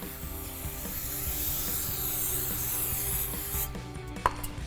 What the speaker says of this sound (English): So we'll go ahead and spray this down with some brake cleaner.